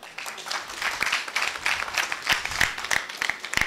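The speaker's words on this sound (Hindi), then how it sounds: "तालियां बजाओ सर।" A crowd applauds, a steady burst of many hands clapping at moderate volume throughout.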